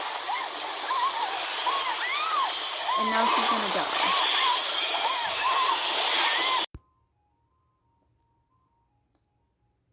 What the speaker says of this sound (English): It's just so much water, and the water is still going.